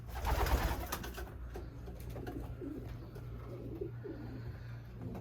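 Young breeder pigeons coo softly in a loft, a few low rolling coos fairly close over a steady background hum.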